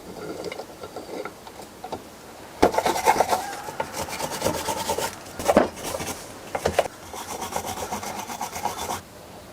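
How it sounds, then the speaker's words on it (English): Old bolts from an old Toyota truck being cleaned, likely against a wire wheel or abrasive. Rasping, rubbing bursts start faint and turn loud and steady, with short pauses between passes and no talk. "Let's clean up these bolts really quick."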